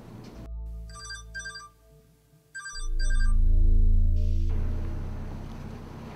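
A cell phone ringtone plays two short bursts of bright electronic chirps over sustained tones, then a low rumbling swell takes over as the ring fades, no talking.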